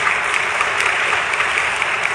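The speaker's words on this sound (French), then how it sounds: "Je voudrais que la salle vous applaudisse comme il se doit pour vos interventions." Steady, dense applause from a conference audience for the panelists of a high-level panel, continuous and even throughout with no pauses.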